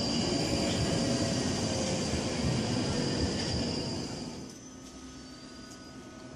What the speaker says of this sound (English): And here comes the train.